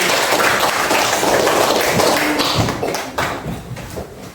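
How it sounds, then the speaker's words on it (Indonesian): Hand clapping from a classroom of students, a dense, steady patter of many hands that fills the room for about three seconds and then thins out and fades. "Iya, bagus, tepuk tangan."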